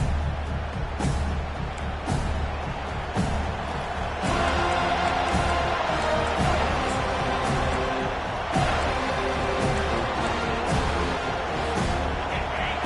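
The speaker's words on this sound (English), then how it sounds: "This crowd bringing the energy and noise early." A stadium crowd in the college football video game NCAA 25 roars and cheers steadily throughout, a dense wash of noise with occasional thumps and swells.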